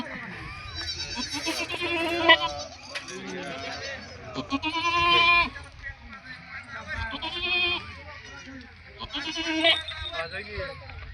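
A goat bleats repeatedly nearby, in loud, wavering cries that come in several separate bursts with short pauses between them.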